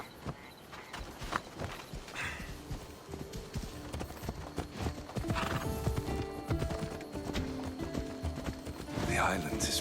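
A horse in the Assassin's Creed Odyssey video game clip-clops along with steady, close hoofbeats and an occasional whinny, while characters talk over the riding.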